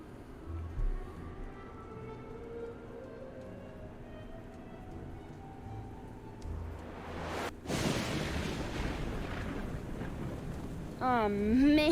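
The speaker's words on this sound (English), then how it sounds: "The lightning struck directly into this tree." Lightning cracks into a tree in the pirate adventure game Cleo - A Pirate's Tale: a sudden loud broadband crash about two-thirds of the way through, then a rolling rumble like a thunderstorm, with a wavering tone rising near the end.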